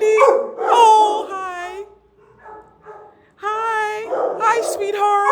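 A dog at an animal shelter barks, yips and whimpers close by in several high, strained bursts, mixed with a person's voice talking affectionately.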